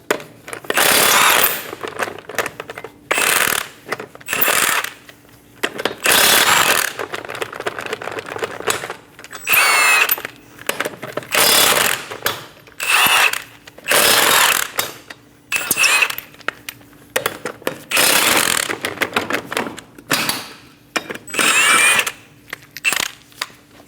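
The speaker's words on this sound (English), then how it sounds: "Using a 21mm socket, remove the 5 lug nuts." Lug nuts on a 2008-2015 Scion xB front wheel being removed with a 21mm socket on an impact tool, in repeated loud rattling bursts separated by short quiet gaps.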